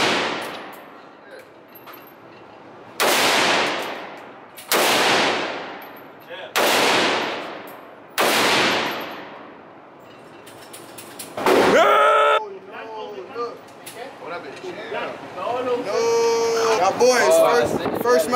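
Gunfire at an outdoor gun range from guns fitted with 3D printed parts: four loud, sharp shots spaced about two seconds apart, each with a decaying echo, then metallic clatter and handling noises to the end.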